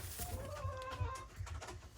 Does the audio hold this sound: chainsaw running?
no